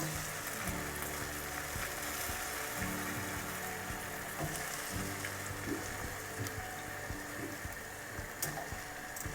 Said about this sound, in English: they sizzle and start soaking up the syrup straight away